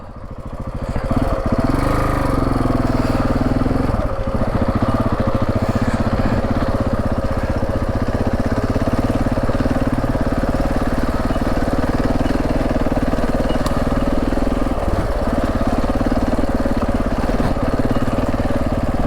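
A KTM 690 single-cylinder motorcycle engine drones steadily and loudly while riding a rural track near Mt Mee, with a few brief throttle changes and constant wind rush throughout.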